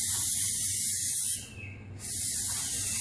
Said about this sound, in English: We're going to start plasti dipping the hood scoop.